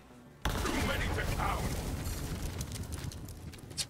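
A loud burst of Borderlands 3 gunfire erupts after a short quiet start, with rapid overlapping shots and splash-damage blast noise, voices talking underneath.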